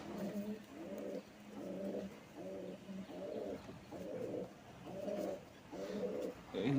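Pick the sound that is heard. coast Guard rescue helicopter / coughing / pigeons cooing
pigeons cooing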